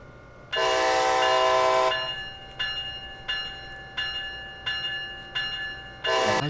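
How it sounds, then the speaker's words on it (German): Locomotive whistle in Train Sim World at Dortmund: one long steady blast, then a train pulling away with regular rhythmic horn-like pulses, and a second whistle burst at the end, loud and close. "Bei kurzen Pfeiftönen informieren Sie Menschen um Sie herum,"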